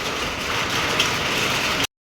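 Heavy rain with large drops drums on the roof in a loud, dense, unbroken roar that fills the space until it cuts off suddenly.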